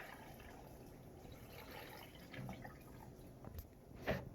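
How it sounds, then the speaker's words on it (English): About two cups of water poured into a blender full of smoothie ingredients give a soft, steady trickle and splash, fairly faint, ending in a couple of brief louder drips. "Next, I'm going to add about 2 cups of water to this."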